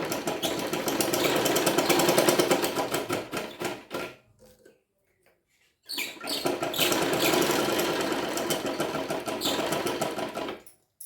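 A sewing machine stitches lining onto a blouse, a rapid loud mechanical clatter in two long runs separated by a few seconds of near silence.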